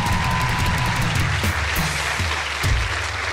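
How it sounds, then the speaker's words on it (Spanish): Studio audience on a Colombian television talk show claps steadily in a dense, continuous wash of applause, with a few sharper claps and cheers standing out. "Un aplauso para ella que va a aceptar el reto."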